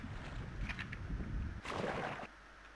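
A boat gliding through water in Minecraft with the Tekkit modpack, a soft sloshing wash that swells midway and then drops off, no talking.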